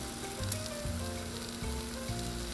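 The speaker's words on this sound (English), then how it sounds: "we're gonna put our potatoes on right next to the bacon. Put some olive or some oil down first." Potatoes sizzling in a little oil on a Blackstone 22-inch griddle beside bacon, a steady close crackle with a few soft scraping stirs.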